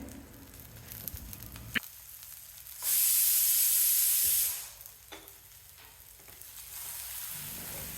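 Crushed garlic cloves fry in oil in a pan as part of a Tamil potato and radish side dish, with a steady sizzle, a loud hissing burst midway and a few clinks of a stirring utensil.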